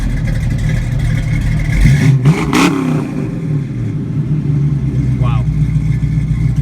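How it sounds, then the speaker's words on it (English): A 1967 Ford Mustang coupe engine cranks and catches with a loud revving surge, then settles into a deep, choppy, rumbling idle that runs close and continuous; a person exclaims briefly during the start. "think it's time we get this Mustang fired right up"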